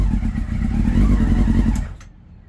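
A motorcycle engine catches and runs briefly with a loud, close, rough revving roar and some mechanical clatter, then cuts out abruptly, leaving near silence.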